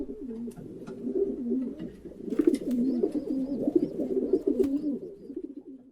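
A racing pigeon coos in continuous rolling, throaty phrases close by for several seconds, with a few faint chirps above.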